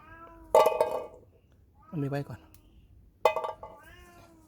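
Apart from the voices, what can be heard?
cat meowing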